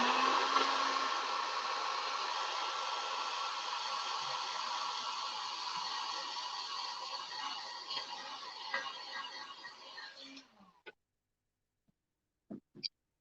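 A hair dryer blows steadily on wet paint on a laser cut pumpkin and gourd craft piece, a loud continuous whoosh that cuts off near the end, followed by a few small clicks and taps.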